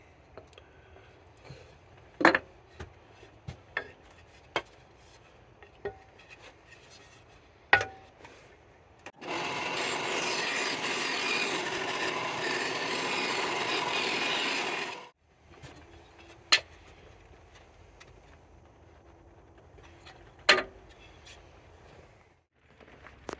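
A saw trims and chops wood for an oil can guitar build, a dense six-second burst of cutting between scattered knocks and clatter of handling on a bench.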